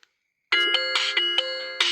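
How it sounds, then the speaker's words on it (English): A Nokia 110 4G phone plays a bright, chiming electronic ringtone, a quick run of repeated bell-like notes starting after a brief silence, clear and close. "check out the ringtones on this thing"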